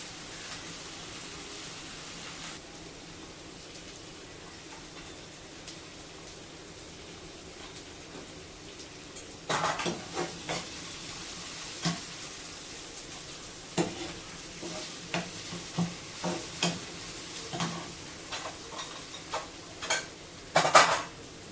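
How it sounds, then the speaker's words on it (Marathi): Something is dry-roasted in a pan while packing children's office tiffin, with a faint steady sizzle at first, then repeated scraping and clinking as a utensil stirs against the metal pan, growing louder toward the end. "थोडंसं भाजून घेते."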